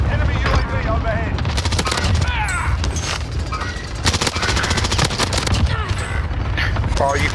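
Gunfire in a first-person shooter game: rapid bursts of automatic weapon fire crackle loudly, mixed with in-game radio callouts and other game effects.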